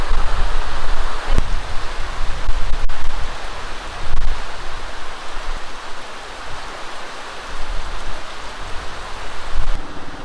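Heavy rain pours down in a dense, loud, continuous hiss that swells and eases in waves, with an occasional sharp knock, and no one speaks.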